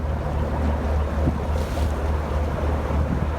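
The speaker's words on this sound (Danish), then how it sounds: "Fra en kvart til en halv meter bølger." Sea swell and waves wash against a sailing boat crossing the English Channel, with steady wind rushing over the microphone and a continuous low rumble, loud and unbroken throughout.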